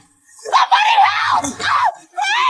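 A woman screams in anguished, drawn-out wails, loud and close, broken by short gasps between cries.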